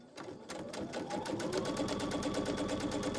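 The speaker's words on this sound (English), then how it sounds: "Just sew a straight line down." Sewing machine running steadily while stitching a straight quarter-inch seam through a quilt block, a fast even mechanical whir with rapid needle ticks, close and loud, starting after a brief pause and continuing alone.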